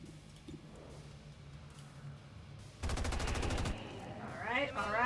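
Game gunfire from XCOM 2: a dense burst of rapid shots lasting under a second stands out mid-clip over a low ambient game soundscape, followed by rising synthetic effects.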